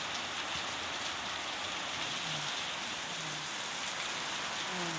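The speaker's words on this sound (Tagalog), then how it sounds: "Lakas ng ulan eh." Heavy rain pouring down in a steady, dense hiss that continues without a break, loud and close, with no voices over it.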